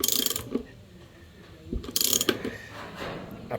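A coarse-threaded screw is driven into native wood, giving bursts of ratcheting, grinding clicks that pause and resume, close and fairly loud with quieter stretches in between.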